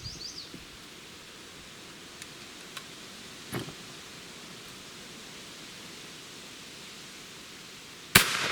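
A black-powder revolver loaded with Pyrodex fires once at a spray paint can outdoors, a single sharp, loud crack near the end of a long quiet stretch with faint background hiss and a couple of small distant pops earlier.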